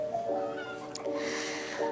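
A cat meows repeatedly, three drawn-out tonal calls spaced through the short stretch, fairly close and clear over a steady background hiss.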